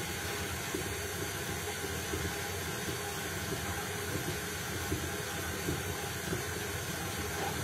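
An electric stand mixer churns cookie dough at speed 2, a steady, even whirring drone with a hissy edge that holds constant throughout, close and unbroken.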